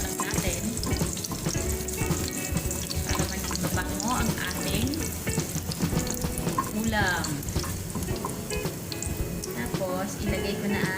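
Corned beef browning in a pan, a close, steady crackling sizzle with stirring scrapes throughout, while someone talks in the background.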